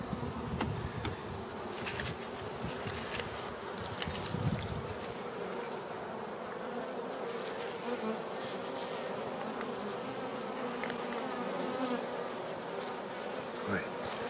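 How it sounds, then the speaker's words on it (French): A honeybee buzzes steadily while trapped, a continuous near insect drone lasting throughout with small fluctuations, and no voices over it. "c'est une abeille"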